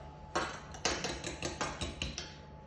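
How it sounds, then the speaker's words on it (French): A whole egg beaten with a fork in a bowl for egg wash, quick rhythmic clinks and taps of metal on the bowl, close and fairly quiet, about eight strokes. "je vais délayer un œuf entier et badigeonner mes sablés avec"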